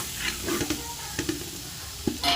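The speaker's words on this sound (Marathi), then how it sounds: "कांदा परतून घेतलेला तो कांदाही घालायचा. व्यवस्थित एकजीव भाजून घ्यायचं." Onion stir-fried in a pan for Kolhapuri misal, sizzling steadily up close while a spatula scrapes and stirs in a few quick strokes, with no voices.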